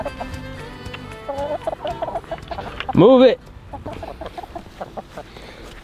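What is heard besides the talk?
chickens clucking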